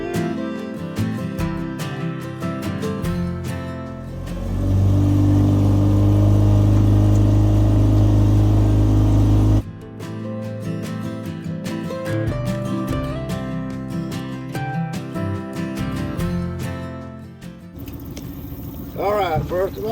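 Tour boat motor droning on a swamp ride through the Okefenokee refuge, a steady mid-pitched engine rumble that swells loud for several seconds amid someone speaking and background music.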